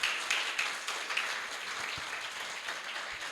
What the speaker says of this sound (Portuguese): Quem pode dar uma salva de palmas para Jesus bem forte?